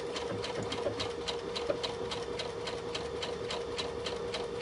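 A Baby Lock sewing machine stitches a buttonhole with a fast, even mechanical rattle of the needle, close and steady throughout with no voices.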